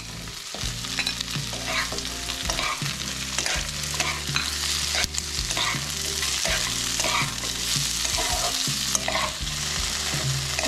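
Capsicum and onion fry with paneer in a pan, a constant sizzle with busy stirring scrapes heard close, over a steady low music bed with no voices.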